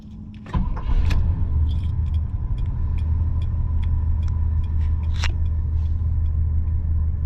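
A 1979 Cadillac DeVille's engine cranks and catches, then settles into a steady, smooth low idle, with a few faint seatbelt-reminder chimes and jingling keys over the rumble.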